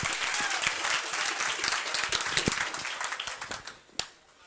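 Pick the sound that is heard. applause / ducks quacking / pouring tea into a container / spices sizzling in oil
applause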